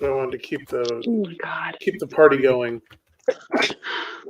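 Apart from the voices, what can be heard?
sneeze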